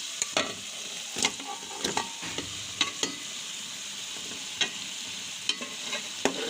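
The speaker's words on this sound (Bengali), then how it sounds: "এখন আমি দিয়ে দিব ভেজে নেওয়া মাছগুলো" Pieces of fried coral fish are dropped into a simmering curry and stirred, giving a steady close sizzle broken by repeated sharp scraping clacks of a spoon against the pan.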